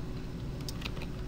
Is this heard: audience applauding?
no